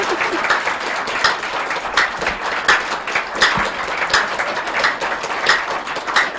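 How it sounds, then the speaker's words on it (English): An audience claps in loose rhythmic surges, the bursts of hand claps swelling and easing roughly every second, loud and close with no talking over them. "Clap for him."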